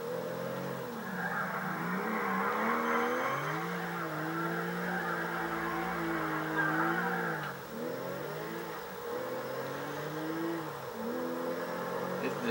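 A turbo race car in a racing game revs continuously, its engine pitch climbing and dropping through gear changes, with a sustained tire squeal in the first half, loud and close.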